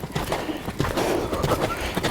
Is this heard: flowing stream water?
no